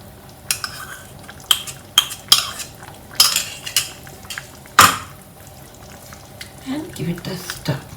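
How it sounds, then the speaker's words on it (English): A spoon stirs a pot of Anglo-Indian vegetable stew in coconut milk, with sharp, irregular clinks and knocks against the metal, loud and close, and a faint voice near the end. "And give it a stir."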